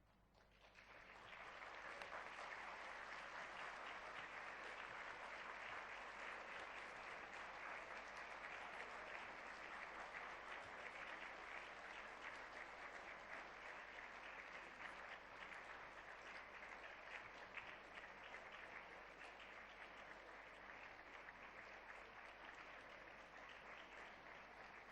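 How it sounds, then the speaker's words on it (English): Sustained, dense applause from a large audience at a university graduation ceremony, with graduates standing to clap; it swells in after a moment and holds steady and loud to the end. "give these people a huge and rousing round"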